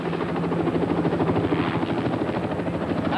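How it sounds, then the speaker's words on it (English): A helicopter coming in to land, its rotor thudding steadily and loudly with a broad whooshing roar and engine whine, close and continuous with no voices. "There's the helicopter"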